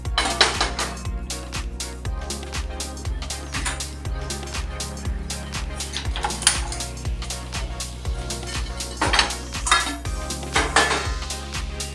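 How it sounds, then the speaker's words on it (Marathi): A tawa griddle is set on the stove and handled, giving repeated metallic clinks and knocks of pots and utensils in a home kitchen, with steady rhythmic clattering throughout and no voices. "आता सर्वप्रथम मी तवा गरम करायला ठेवून देते।"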